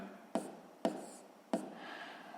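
Three crisp, quiet taps of a pen on paper while writing out a sixth-grade fraction sum, evenly spaced about half a second apart, with no voices.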